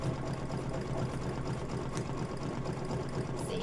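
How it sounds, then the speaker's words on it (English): Sewing machine stitching fabric pieces together during a sewing session, a close, steady, fast mechanical whirr that runs continuously throughout at even volume. "I sew it together"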